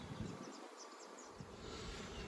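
Honey bees from a nucleus colony moved into a ten-frame Flow Hive 2 brood box give a faint, thin buzzing hum over quiet background hiss, ending with a brief knock.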